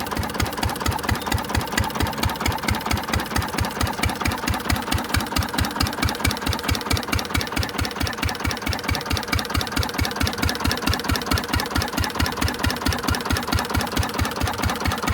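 A single-cylinder antique Witte diesel engine idles steadily, its rapid regular chugging beats loud and close for the whole stretch, with no talking.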